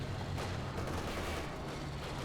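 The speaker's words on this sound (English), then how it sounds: "MG34 engaging these guys over here" Rapid gunfire from an MG34 machine gun in the Company of Heroes video game, a dense continuous burst sustained at steady loudness throughout, mixed with other battle noise.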